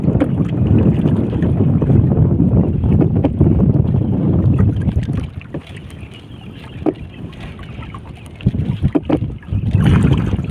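A small boat is paddled by hand in windy conditions on open water, with loud wind buffeting and water sloshing against the hull, interrupted by a few knocks and splashes.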